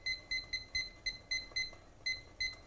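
Kitchen timer giving a string of about ten short, bright electronic beeps in an uneven rhythm while it is set for fifteen minutes, close and clear against a quiet room.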